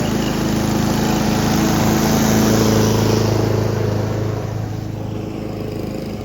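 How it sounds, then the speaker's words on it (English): A riding lawn mower engine drones loudly and steadily nearby, holding an even pitch before easing slightly toward the end. "And I got the jump on the ride lawnmower"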